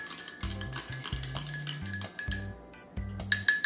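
A spoon stirs a Bailey's rum cream drink in a glass, making rapid bright clinks and ringing taps against the sides in quick irregular bursts, close and moderately quiet, with no talking.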